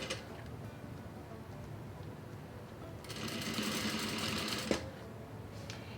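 A sewing machine stitches boning into a corset bodice, its rapid mechanical whir and ticking running close and steady, growing louder midway before stopping with a brief knock.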